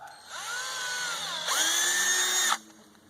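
A power drill whines steadily while boring a tap hole into a maple tree, then revs higher for about a second before cutting off abruptly.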